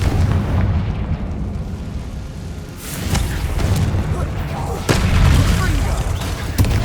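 Confringo fire spells explode repeatedly in Hogwarts Legacy combat, heavy booming blasts and rumbling over a dense, loud battle din, with sharper bursts near three and five seconds.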